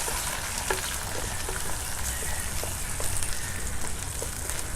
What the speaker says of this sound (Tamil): தாளிப்பு நல்லா வெடிச்சாச்சு.